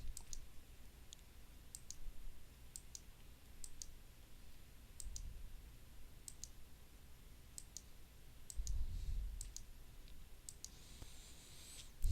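Computer mouse clicking while outlining an area on a map, with faint, sparse single clicks repeating at irregular intervals over a quiet background.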